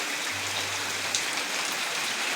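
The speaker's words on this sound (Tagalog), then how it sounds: "At medyo lalakas na rin po ulan at mamamasa ang ating camera." Steady rain falling, an even hiss of drops on surfaces with a brief low hum partway through.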